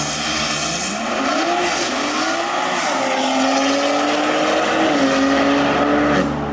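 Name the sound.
tuned BMW M4 S58 engine, spirited driving with open exhaust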